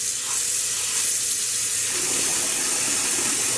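Cool water runs from a tap over hand-wound balls of dyed roving as they are gently pressed during rinsing, a steady close splashing flow with no talk.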